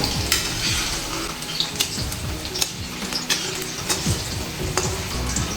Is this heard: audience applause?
no